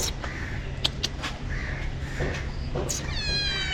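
A cat meows a few times in Kashmir, short mid-pitched calls spread across the clip over steady background noise, ending in a rising bird-like call.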